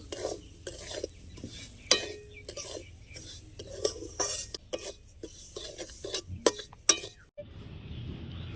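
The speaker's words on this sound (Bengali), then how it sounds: "এই সুজিটা এখন কড়াইয়ের মধ্যে দিয়ে দেবো একটু ঘিটার সাথে সুজিটা ভেজে নেব" Semolina being stirred and roasted in ghee in a wok, giving repeated close scraping and clinking strokes of a utensil against the pan with a faint sizzle, no talking.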